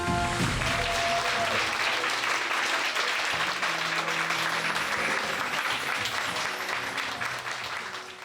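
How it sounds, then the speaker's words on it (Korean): A hall audience breaks into steady, loud applause to welcome a vegan cooking researcher onto the stage at a lecture event, with the clapping sustained throughout and tapering slightly at the end. "자, 큰 박수로 맞이 부탁드리겠습니다"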